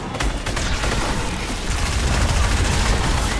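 Dense, continuous gunfire from the Fortnite video game crackles and booms without letup, loud and close, with several shots overlapping in rapid succession.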